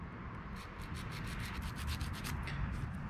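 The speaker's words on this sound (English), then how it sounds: "Quick little polish job on the tip of this rotor." Steady rubbing strokes as the corroded tip of a distributor rotor from a 1973 Datsun 1600 is polished by hand, a close, even scratchy friction sound with regular back-and-forth rhythm throughout.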